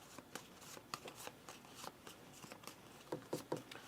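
A deck of board game cards is shuffled off to the side, giving a run of crisp, rapid riffling bursts at close range, heard alone with no voices.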